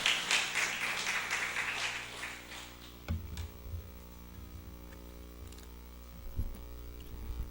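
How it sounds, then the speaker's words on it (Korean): Brief burst of audience clapping welcoming a preacher at a Korean church service, fading after a few seconds into a quiet room with low hum and a couple of soft knocks. "우리 큰 박수와 할렐루야를 환영합니다"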